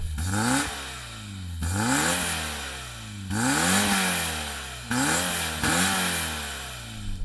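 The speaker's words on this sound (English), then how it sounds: "let's hear some old schoolness from a time when soft limiters didn't exist." An old 1980s Peugeot 205 engine with no soft limiter revs hard close by in four repeated bursts, each climbing sharply to a loud peak then dropping back before the next.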